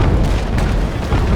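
Ship cannons firing in the naval sailing game Naval Action, heard as a dense, continuous rumble of overlapping booms. The blasts are loud and sustained, with no clear gaps between them and no voices.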